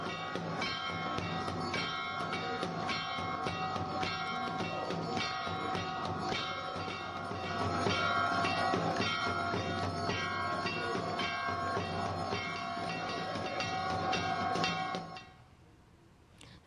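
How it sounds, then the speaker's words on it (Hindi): Temple bells ring with a conch shell during worship at Mumba Devi temple, a dense, continuous metallic clanging and drone that carries on steadily for about fifteen seconds before stopping abruptly. "इस दौरान घंटा और शंख की ध्वनि से पूरा वातावरण भक्तिमय हो चुका है।"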